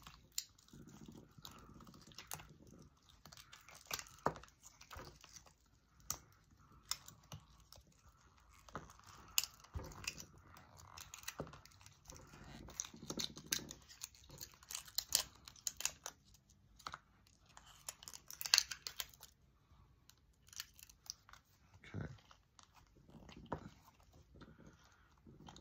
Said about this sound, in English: peeling these things is always so satisfying